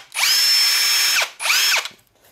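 A power drill drives screws into an adapter base that lets Ozito PXBP batteries fit Ryobi and Makita tools. It gives two loud, close whirring bursts, a long one and then a shorter one, each winding down as the screw seats.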